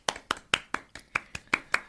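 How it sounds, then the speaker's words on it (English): A podcast host claps alone to celebrate an episode milestone: about ten sharp, evenly spaced hand claps, close and distinct, with no voices. "Let me just give a round of applause."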